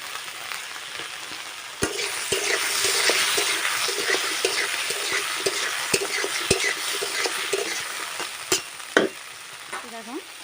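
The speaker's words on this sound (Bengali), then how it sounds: "আমি সেই তেলে ঢ্যাঁড়সগুলো ভেজে নেব" Okra frying in oil with salt in a kadai, a steady close sizzle with crackling pops and occasional stirring scrapes, no voices.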